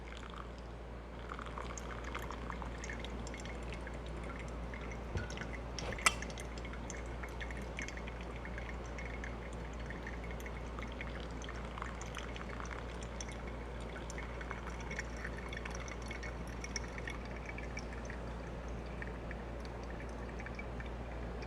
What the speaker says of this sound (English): just wait for all the water to pour down inside the server